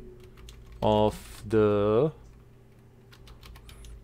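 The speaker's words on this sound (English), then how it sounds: "I'm just gonna type in test" Light, steady clicking of typing on a computer keyboard runs through the whole stretch, continuing under two brief spoken words.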